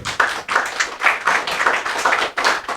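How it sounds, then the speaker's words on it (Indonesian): A small group claps together at a gathering of party officials in Malang, producing steady, close, rhythmic hand claps that pulse in bursts for a few seconds without any talking. "Nah, kita berikan tepuk tangan dulu."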